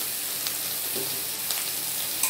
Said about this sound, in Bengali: দিয়ে আমি মশলাটা ভালো করে কষিয়ে নেব।